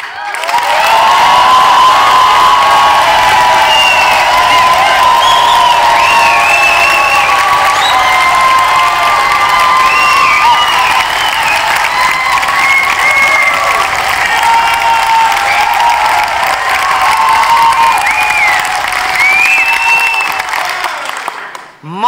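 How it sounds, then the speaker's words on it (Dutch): An audience at a Dutch literary festival evening claps and cheers energetically for about twenty seconds, a loud sustained roar of applause with whoops and shouts, fading out at the close. "jullie gaan nu als eerste klappen voor Stian."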